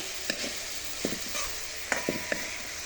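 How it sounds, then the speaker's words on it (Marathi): Fenugreek leaves and soaked moong dal sizzling in hot oil, a steady crackling fry broken by several quick scraping stirs of a spatula, heard up close with no talking. "मस्तपैकी चरचरीत आवाज आलेला आहे मेथीच्या भाजीचा"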